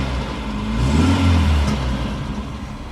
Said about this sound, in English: The car's being revved.